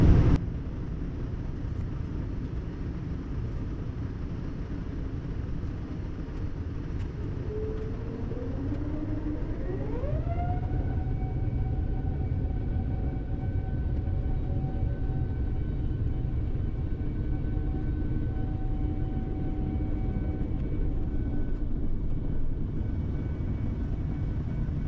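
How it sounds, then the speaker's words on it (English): Singapore Airlines jet taking off from Perth, heard from inside the cabin: a constant loud roar of engines and rushing air, with a rising whine that climbs in pitch and then holds steady as the airliner gathers speed. "It's time for takeoff. Let's speed up our departure from Perth."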